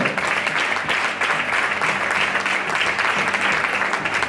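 A crowd claps loudly as a player is introduced at a women's all-star football match in Lugo. Continuous, close, energetic applause holds at a high, steady level throughout.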